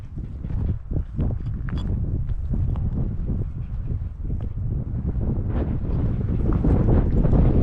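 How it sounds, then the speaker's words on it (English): Strong wind gusts buffet the microphone on a mountain top in the Warner Mountains, in low, rumbling bursts, steady and blustery throughout with no one speaking. "it's really windy today"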